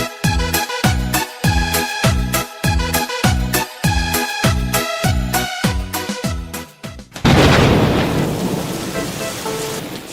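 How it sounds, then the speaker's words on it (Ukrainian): A thunderclap breaks loud and rolling into steady heavy rain, following a stretch of rhythmic, repeated tones. "сіра хмара пропливала, діток дощиком злякала."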